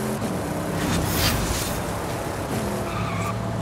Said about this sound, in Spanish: Ese suena a Lambo que te cagas